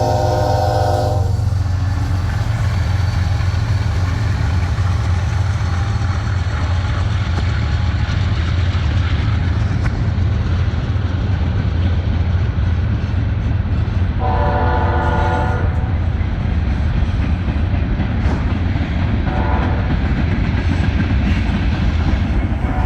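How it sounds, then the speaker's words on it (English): Norfolk Southern freight train 31T passing at night, a loud continuous rumble of rolling cars with its horn sounding in short blasts near the start and again midway. "This is NS train 31T."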